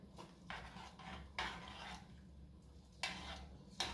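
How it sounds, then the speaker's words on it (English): A spoon scrapes and rubs through fish with scallion in a pot, making several quiet, separate stirring strokes against the metal. "Let's stir this up"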